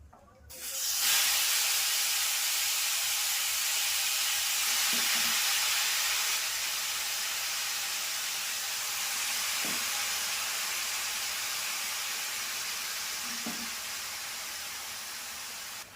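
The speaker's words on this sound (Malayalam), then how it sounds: "ചട്ടി നന്നായി ചൂടായിട്ട് നമുക്ക് പോത്തുനെയ്യ് ഇടാം." Chopped beef fat hits a hot pan and sets off a broad steady hiss that swells in quickly and holds, slowly fading, with a few faint clicks scattered through.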